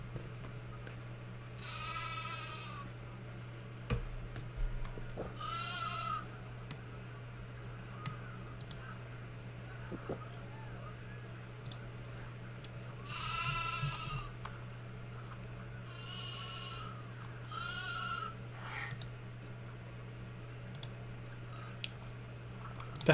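Sheep in the zoo-building game Planet Zoo bleat in about five separate wavering calls, spaced several seconds apart, over a steady low background hum.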